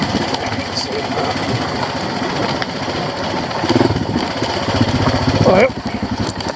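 Royal Enfield Himalayan motorcycle held in first gear descending a rocky trail, its engine a continuous close rumble mixed with rattling over stones, brief rider voice over the drone.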